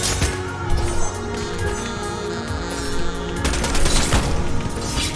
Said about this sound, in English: And the katana can deflect bullets.